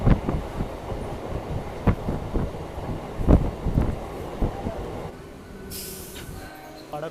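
East Coast Express train on the Kharagpur–Howrah line, with loud rumbling wheels and irregular clattering thumps passing close by, followed by a quieter stretch with a brief hiss.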